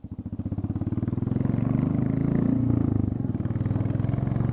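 A Royal Enfield Classic 350 motorcycle with its exhaust tip removed idles close by with a loud, rapid, even thumping beat. It swells slightly in a gentle rev before settling back.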